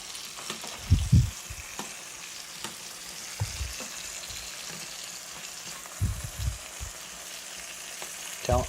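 Peppers fry in a pan, giving a soft, steady sizzle in the background broken by a few louder clunks and stirring knocks, with no talking.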